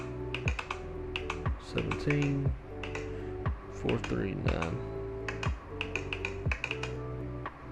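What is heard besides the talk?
cockpit button clicking in Fenix A320 flight simulator video game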